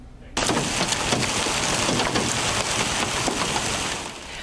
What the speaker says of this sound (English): You could hear the hail pounding the car and the ground in this video